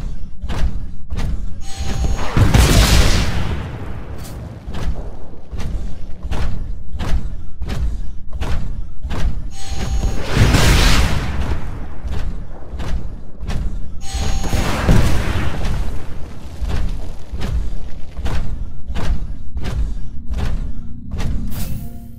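Rockets exploding in Titanfall, deep heavy booms recurring every few seconds along with sharp repeated thuds and clanks, loud and close throughout.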